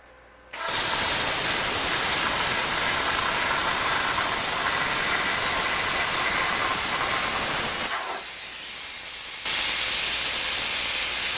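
A Coral Cut 50, a 50-amp plasma cutter, cuts metal with the heat turned up, giving a loud, steady hiss that lasts about seven seconds. It then drops to a quieter tone and swells again near the end.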